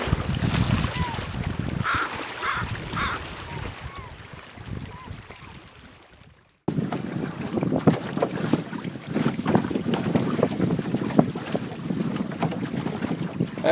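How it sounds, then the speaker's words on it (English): A light RowCruiser sailing canoe glides through water in a very light breeze at five to six knots, with steady wind buffeting and water wash close by, dipping briefly before resuming. "The boat just glides through the water."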